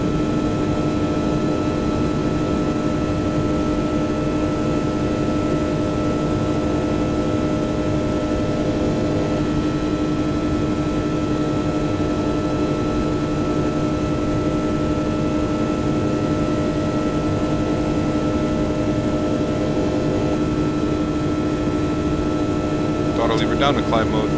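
Airliner climbing after takeoff in X-Plane 11, an A320, A330 or 737 out of Amsterdam, Hamburg, Zurich or Innsbruck: a steady engine drone with a tonal whine holding constant throughout, close and continuous.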